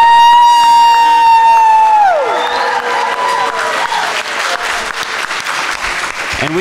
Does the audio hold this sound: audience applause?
yes